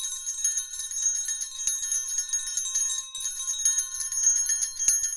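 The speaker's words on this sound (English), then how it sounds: "Insert bell sounds while I talk." A bright bicycle-style bell rings continuously, a dense, high, metallic jingle of rapid repeated strikes that stays loud and even for several seconds, with no voices.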